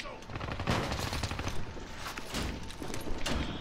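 Video game gunfire heard as rapid bursts of shots, somewhat muffled and not far off, continuing throughout with brief louder clusters, while players talk over it.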